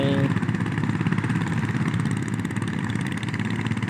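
A farm machine with large 30-inch wheels and a reworked gearbox, second gear removed, runs in a wet rice field. Its engine chugs steadily and loudly with a fast, even putter close by.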